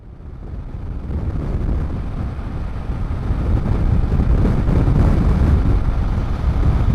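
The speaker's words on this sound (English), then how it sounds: "I don't know how much of a wind blast I'm going to be getting here, how much you can hear, but it's very windy" Strong wind buffets the microphone in a steady, loud low rumble that builds slightly and holds throughout, during a roadside break near Quadaring on a long-distance motorcycle endurance ride.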